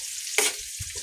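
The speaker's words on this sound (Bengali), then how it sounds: "এখানে যে চুলাই কাঁচামরিচ আর পেঁয়াজগুলো ভাজা হচ্ছে" Green chillies and onions frying in a pan on a stove, a steady hiss of oil running throughout with a brief louder sizzling burst in the middle, close by and alone.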